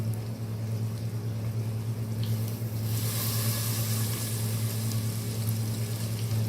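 Fried eggplant pieces sizzle in a pan as half a lemon is squeezed over them, a steady frying hiss over a low hum that grows brighter and louder partway through, with no talking.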